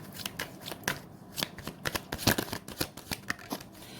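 Tarot cards being shuffled and drawn by hand: a rapid series of close, crisp card riffles and flicks in an irregular rhythm, with no talking.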